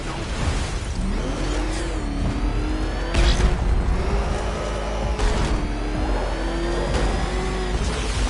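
Car engine in Batman Arkham Knight revving hard, a loud mid-pitched roar climbing and dipping through gear changes, with a couple of heavy thuds and whooshes along the way.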